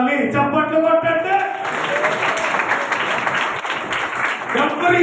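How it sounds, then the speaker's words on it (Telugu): A church congregation claps during a sermon: someone speaks briefly, then a dense burst of hand-clapping fills the room for several seconds and fades as his voice returns. "చప్పట్లు కొట్టండి"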